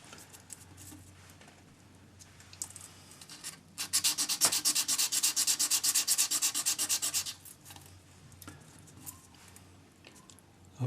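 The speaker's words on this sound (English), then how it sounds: "So just keep sanding until you get that." A wire cuff is hand sanded in a quick, even back-and-forth rhythm of close, raspy strokes for a few seconds, with quieter scuffs before and after and no voices.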